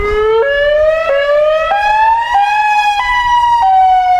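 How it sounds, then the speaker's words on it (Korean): American emergency vehicle siren wails loud and close, a steady rising tone that steps upward in repeated cycles and holds a strong, continuous blare throughout with no voices. "이 소리는 실제 미국에서 사용하고 있는 사이렌 소리야."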